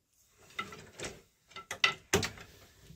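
Wooden weaving loom treadles pressed in turn by foot, giving a series of clunks and mechanical clacks with short knocks of the shafts, close and fairly quiet, with gaps between presses and no talk.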